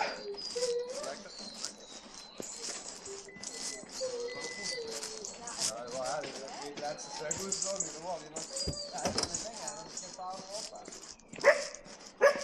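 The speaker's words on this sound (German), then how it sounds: "Nein, das ist nicht VP1. Das sind Hunde." Dogs bark and yip repeatedly in a forest during an autumn hiking event, at moderate distance, with people talking over much of the sound.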